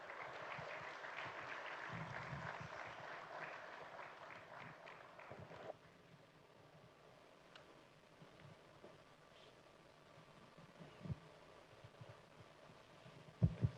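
Audience applause welcoming former President Goodluck Jonathan at a security event, a dense wash of clapping that is loudest at first then thins to scattered claps and faint room noise.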